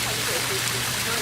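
A pump-fed waterfall built from stacked rocks in a garden pond splashes and burbles in a steady rushing wash, close and constant, with a voice faintly underneath.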